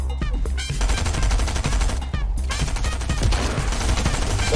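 Gunfire in Fortnite, rapid loud bursts of shots crackling in dense clusters with brief pauses, close and continuous throughout, with little or no talk over it.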